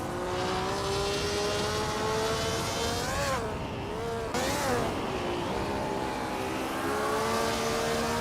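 Race cars from a racing video game roar continuously at high revs, engine pitch rising and shifting through gears with a brief dip mid-race, loud and steady throughout.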